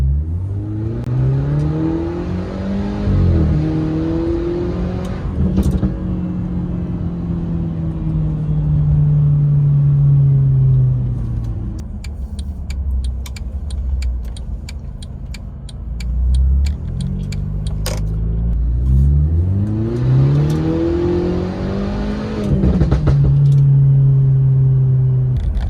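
A loud Mercedes C200 engine revving hard, with repeated rising and falling roars and deep rumbling idle between revs, close and powerful throughout.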